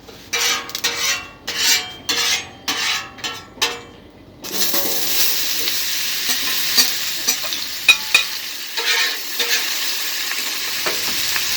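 Red potatoes with olive oil and onion fry on a flat top grill, first stirred and scraped in a run of rhythmic bursts, then settling into a steady loud sizzle with occasional clicks and scrapes.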